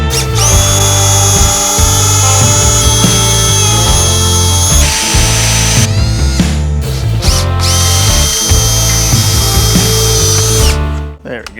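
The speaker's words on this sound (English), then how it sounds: "So what I'm gonna do is drill out the rivets here" A power drill bores out the rivets on a Harley-Davidson motorcycle seat, its loud high whine rising and falling in several bursts up close. It sounds harsh and metallic throughout, with a short pause midway.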